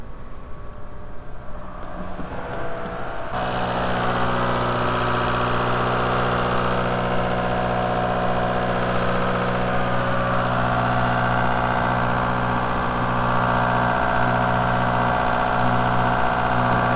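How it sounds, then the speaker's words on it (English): A 1.9L ALH TDI diesel in a VW A4-platform car, mid-thermostat replacement, idles and then steps up to a steady, louder drone at about 2000 RPM that holds without talk. "We'll increase the RPM a little bit, maybe 2000 RPM."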